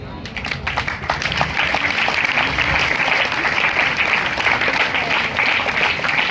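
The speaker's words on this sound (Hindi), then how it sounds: "आपकी तालियां बढ़ती रहनी चाहिए" A large crowd at a church gathering claps loudly and continuously, dense applause filling the room with a rumble of low noise and voices beneath it.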